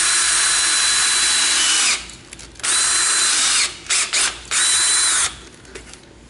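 Power drill boring into the reel cover of a Toro Greensmaster mower, loud whining bursts of drilling that start and stop several times with short pauses between, no talk.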